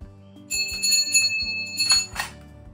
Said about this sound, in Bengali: আর এই যে একটা বড় ঘন্টা